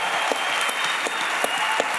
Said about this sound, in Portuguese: uma salva de palmas pro Brunet.